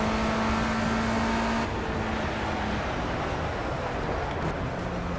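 A race car in Project CARS at Donington Park, FR Euro Trophy qualifying: steady engine drone with constant road and wind roar, a held tone shifting down as revs change, near and continuous, with no talk.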